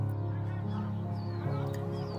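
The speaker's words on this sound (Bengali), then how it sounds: "প্রচুর হুইসলিং সাউন্ড পাচ্ছি" Migratory birds at Gajoldoba give a steady chorus of whistling and honking calls, many overlapping voices from a flock at moderate distance, continuous and fairly soft.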